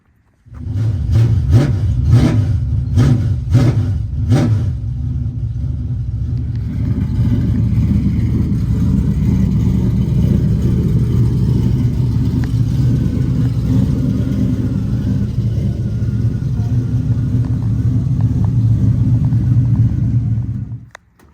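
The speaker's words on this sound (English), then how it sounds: "Get a little engine heat in it." A street stock race car engine idles and warms up with a loud, steady low rumble, a few sharp revs blipping at the start before it settles into an even, close idle for the rest of the time.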